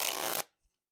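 Small tarot card deck being shuffled, a short crisp riffle burst lasting under half a second, close and fairly quiet, then silence.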